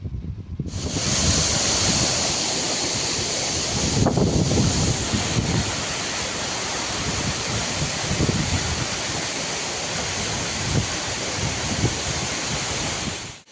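Aruvikuzhi waterfall in Pathanamthitta district roars as a steady, loud broadband rush of falling water, with wind buffeting the microphone throughout.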